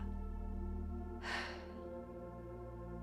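A single forceful breath pushed out through the mouth during a yoga breathing exercise, a short airy rush lasting about half a second over a steady background hum.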